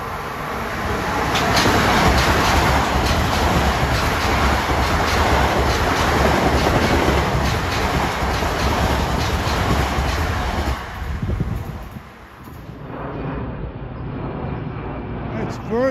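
A Long Island Rail Road train rushes past Merillon Avenue station eastbound, a loud sustained rumble with rhythmic clatter of wheels over rail joints that fades toward the end, with an aircraft overhead adding to the din.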